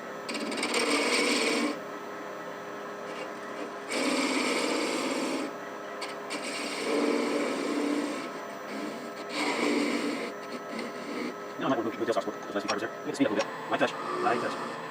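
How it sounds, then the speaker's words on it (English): A skew chisel cuts a V-cut into bubinga wood on a lathe, giving several bursts of raspy scraping separated by short pauses and ending in lighter, scattered ticks and scrapes. "So I'm using a skew, make a little V-cut."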